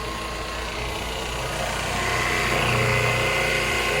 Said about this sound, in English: Now I'm going to run the high pressure pump.